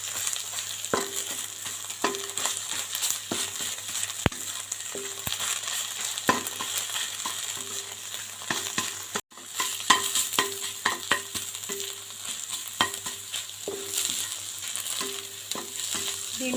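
Beaten eggs sizzle and fry in a pan for fried rice, with steady close-up crackling broken by repeated scraping stirs of a spatula at an uneven rhythm, no talking.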